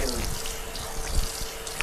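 Water runs steadily from a tap at close range, a continuous broadband rush with faint splashing, no one talking over it.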